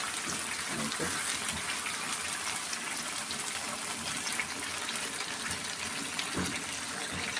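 Water pours steadily into a pan of chicken curry, a continuous close gush and splash running throughout.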